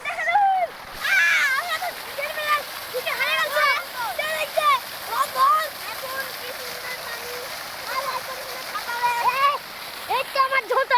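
A person wades into clear water on a jungle safari, with a rushing, splashing wash running throughout beneath a voice talking over it nearly the whole time.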